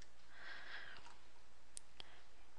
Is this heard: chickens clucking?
no